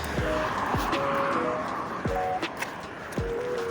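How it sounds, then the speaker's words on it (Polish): Cars pass at a busy street crossing, with swooshes of passing vehicles and distant horn-like tones over a constant traffic hum. "Teraz to trochę głośno było, byliśmy tutaj na skrzyżowaniu."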